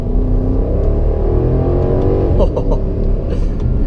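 BMW X5 xDrive50i M Sport accelerating, a loud, close engine roar that climbs steadily in pitch through the run with a deep rumble underneath.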